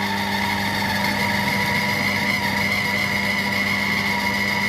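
A Compact Cook Pro mixes coconut and almond pound cake batter at speed 4, giving a steady, even mechanical whir with no pauses.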